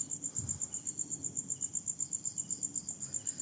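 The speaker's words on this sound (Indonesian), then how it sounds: "Bunyi katak tuh." Frogs call from a pond at night beside a bungalow in Borneo, a steady high-pitched pulsing trill repeating rapidly and evenly, with no voices.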